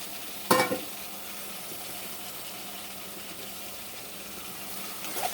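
Tomatoes stirred in a frying pan give a soft, steady sizzle throughout, with a loud scrape of the spoon near the start and another at the end.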